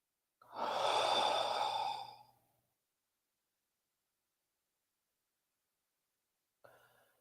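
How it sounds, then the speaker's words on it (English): A single slow, deep breath is heard close up, a long airy exhale lasting about two seconds, followed by silence and a faint start of another breath at the end. "Just take a few deep breaths in this moment"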